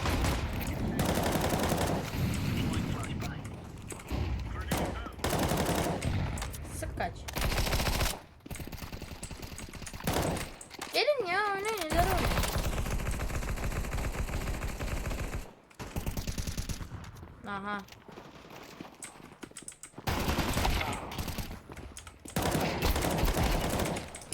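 Rapid gunfire from the shooter game Counter-Strike 2 fills a round, with dense automatic bursts and single shots in quick succession, loud and near, with only brief lulls between volleys.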